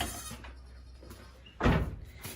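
A goat room door opens with one sudden loud knock and scrape near the end, preceded by quieter handling sounds as a bungee cord is worked off the door, close by with no speech.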